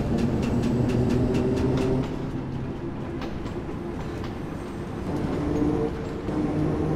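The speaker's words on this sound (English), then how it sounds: "Those are section gaps where it's cutting out a little bit." Bakerloo Line London Underground train in Train Sim World 2 rumbling along the track, its steady traction drone dropping out briefly at section gaps with faint clicks, loud and continuous with no talk.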